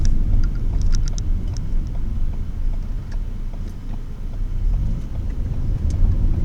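A 2013 Ford Escape SE with the 2.0L engine accelerating, a steady low rumbling engine drone with road and wind noise heard from inside the car.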